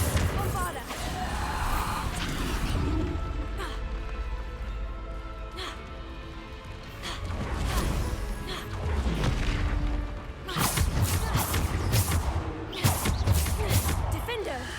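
Repeated spell explosions cast with Bombarda in the Hogwarts video game, booming blasts and crashes scattered throughout, several heavy impacts near the end, with combat noise and a voice talking over them.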